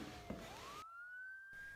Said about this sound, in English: Yeah, the sirens.